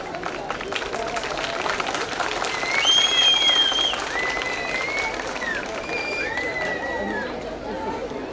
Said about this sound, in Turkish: Onlara kocaman bir alkış alalım o zaman.